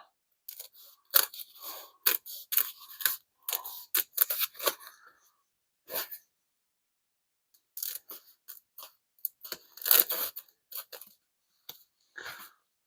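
Scissors snip through a piece of insulation during work on a Plymouth Hemi Duster, giving repeated short crisp cuts in irregular bursts, close up, with pauses between runs and no talking.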